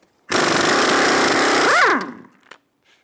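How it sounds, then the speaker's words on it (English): An impact wrench with a 29mm socket removing the spindle nut on a 2000-2007 Ford Focus: one loud, close burst of about two seconds that ends with a spin-down whine, then a brief clunk. "Using a 29mm socket, remove the spindle nut."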